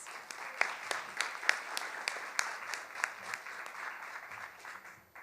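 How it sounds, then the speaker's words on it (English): Steady applause from an audience, a crowd clapping continuously at moderate distance, fading out toward the end. "So let's give him a round of applause."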